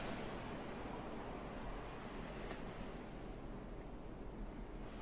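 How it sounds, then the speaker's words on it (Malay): Ocean waves roll and wash continuously in a steady, even surf hiss, faint and distant, with some wind noise mixed in and no voices. "Bunyi ombak tu terlalu kuat"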